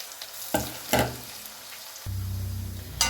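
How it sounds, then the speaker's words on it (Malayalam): Tapioca chips sizzle steadily in hot frying oil, broken by a few sharp, louder bursts as the slices are stirred or disturbed, heard close with no talking. "എൻ്റെ കപ്പ ചിപ്സ് റെഡി ആയിക്കൊണ്ടിരിക്കുകയാണ്"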